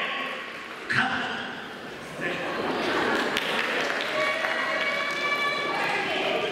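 Spectators at a YOSAKOI Soran dance festival in Hikone clap and cheer as a team from Fukui takes the stage. A sharp hit opens the clip, then a busy, sustained wash of crowd noise follows with tonal music or announcements rising through it.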